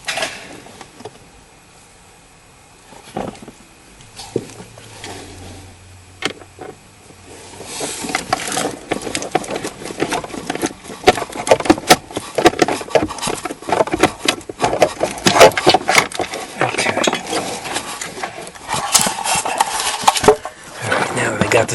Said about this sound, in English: take out the 3 screws